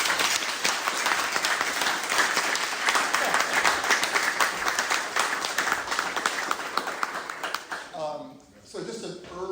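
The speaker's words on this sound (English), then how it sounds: "let's do one more round of applause" An audience at a talk on island flora applauds in a dense, steady round of clapping that fades out near the end, after which a person begins speaking.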